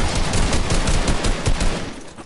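Rapid gunfire from the video game Fortnite, a dense, loud burst of repeated shots fired in quick succession that tapers off near the end, with no talk over it.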